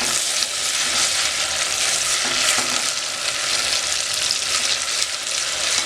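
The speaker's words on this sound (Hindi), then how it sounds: "लहसुन अदरक को अच्छे से फ्राई करेंगे ताकि इसका कच्चापन ख़त्म हो जाए।" Garlic-ginger paste frying with onions in a pan, a steady, close sizzle with occasional stirring scrapes throughout, no talking.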